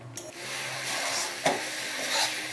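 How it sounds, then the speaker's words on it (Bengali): Pitha filling stirred repeatedly in a pan as it dries out, a soft steady sizzle with a few spatula scrapes against the pan, close and without talking. "এটা এবার বারবার নেড়ে নেড়ে শুকনো পুর বানাতে হবে।"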